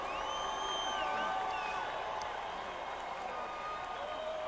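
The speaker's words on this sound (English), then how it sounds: "let's give a round of applause to the San Francisco 49ers" A stadium crowd applauds and cheers for the San Francisco 49ers at a football game, a dense, steady roar of clapping and whoops that carries on throughout.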